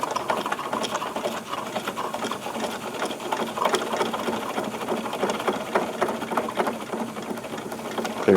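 A Wilesco D22 double-acting model steam engine runs in reverse, a quiet, rapid and steady mechanical chatter of pistons and gears that persists evenly throughout.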